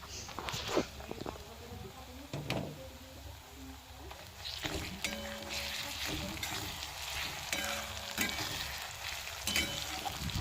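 Chopped onions fry in oil in a kadai for a thin mutton and potato curry, giving a close, steady crackling sizzle broken by occasional scraping and clattering stirs.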